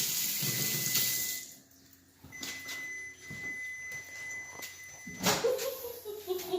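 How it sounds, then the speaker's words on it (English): Hands washed under a running kitchen tap, steady splashing water that dips briefly midway, then resumes with some rubbing and clatter. "let me wash my hands first because of the seasoning"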